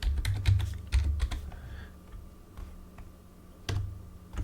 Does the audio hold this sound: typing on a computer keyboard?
yes